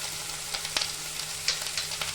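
Spice masala of ginger, green chilli, garlic and onion paste with salt and turmeric fries in a pan, a close, steady sizzling hiss with a few brief pops and stirring scrapes.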